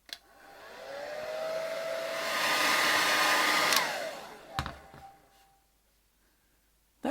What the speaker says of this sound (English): I'm going to go with the hairdryer and see if we can just dry this out a little bit.